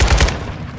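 RPK light machine gun in Modern Warfare 2 fires a quick burst of about three rapid, loud, close shots, followed by a short decaying tail, with no voices.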